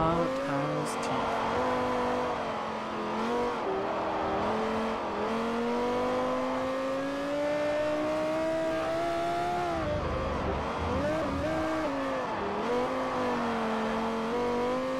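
Race car engine from Forza Motorsport 4, a Yaris-like car imagined with a V10, droning steadily with rising and falling pitch as it accelerates and shifts through a race, loud and continuous.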